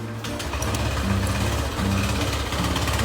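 A Honda Click 115 motorcycle engine runs at a steady idle, close and loud, with an even putter and no talk over it.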